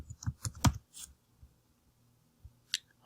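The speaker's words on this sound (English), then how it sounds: "I then type in a new message." Typing on a computer keyboard, a short burst of several quick keystrokes close by, followed by a quiet pause and one or two isolated key clicks.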